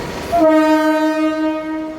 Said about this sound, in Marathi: इकडनं ट्रेन आहे